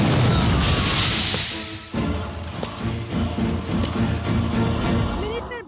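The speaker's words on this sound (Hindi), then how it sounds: "आज दोपहर को एक बम धमाका हुआ" Bomb blast at a minister's farmhouse in a Hindi-dubbed action film: a loud, close crash and boom opens the clip, followed by a dense rumbling bed of debris and scoring, with voices faintly mixed in.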